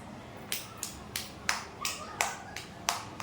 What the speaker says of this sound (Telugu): మరి క్లాప్స్ కొట్టండి, విశ్వాకి క్లాప్స్.